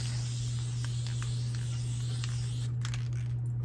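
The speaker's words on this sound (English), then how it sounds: "I'm gonna go ahead and spray it right here so y'all can see it" Temporary spray adhesive hisses from an aerosol can onto a hoodie in a continuous, close spray that stops near the end, over a constant low electrical hum.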